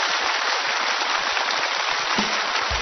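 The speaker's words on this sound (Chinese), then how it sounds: "来，掌声欢迎。" A studio audience at a televised variety show claps in a dense, steady wash of applause that holds evenly throughout.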